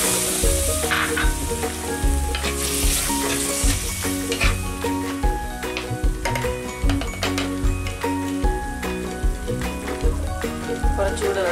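Fish curry masala sizzles loudly in a pan as tamarind water is poured in, a dense, continuous crackle and hiss with stirring scrapes throughout, and no talking.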